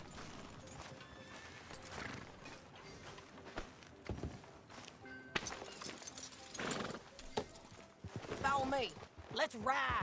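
Horse hooves clip-clop at a walking pace amid Red Dead Redemption 2 game ambience, with people talking over parts of it and a brief whinny near the end.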